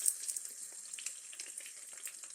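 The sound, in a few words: eggs frying in bacon grease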